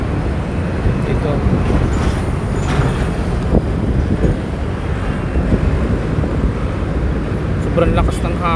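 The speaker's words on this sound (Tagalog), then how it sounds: "sobrang lakas ng hangin" Strong wind buffets the microphone in a steady, loud low roar, lasting throughout with gusting bursts over a wide open compound after a fire, while a person talks underneath.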